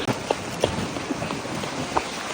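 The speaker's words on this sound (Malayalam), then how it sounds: "മഴ പെയ്തു ഗൈസ്, മഴ പെയ്തു." Rain patters steadily in a forest during a jungle ride, a soft continuous hiss with a few heavier drops landing close by, and no voices.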